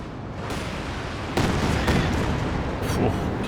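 Katyusha rocket artillery fires in Company of Heroes 2 with a continuous roar of launches and booming impacts, louder bursts swelling through the middle over dense battlefield noise.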